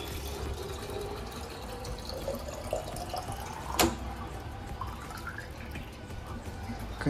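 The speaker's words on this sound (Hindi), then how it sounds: "पानी भरने का डिपार्टमेंट मेरा है घर पे।" Tap water runs steadily into a bottle at home, a soft continuous hiss and trickle with a faint rising pitch as it fills and one brief clunk partway.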